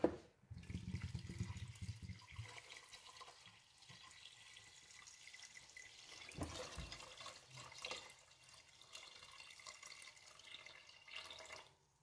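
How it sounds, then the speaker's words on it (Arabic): Water poured over Moroccan harira soup ingredients (vermicelli, flour, tomato paste) in a pot, a steady close running-water wash that swells and eases over about twelve seconds, with no talk. "المهم هاد المكونات غادي نزيدو عليهم الماء"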